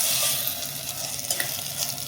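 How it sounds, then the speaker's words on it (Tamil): Chicken curry with ginger garlic paste being stirred in a pan: a steady sizzle with scraping spoon strokes against the pan bottom, close and continuous, with no talking. "இஞ்சி பூண்டு பேஸ்ட் போட்டதுனால அடியில் பிடிக்கிற மாதிரி இருக்கும், ஆனால் பிடிக்காது. நல்லா கிண்டிக்கணும்."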